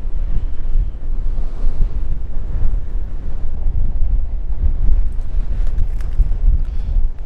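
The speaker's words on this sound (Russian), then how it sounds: "Аж сдувает ветер." Heavy wind buffeting the microphone, producing a constant low rumbling roar with gusty swells throughout, loud and close, no voices.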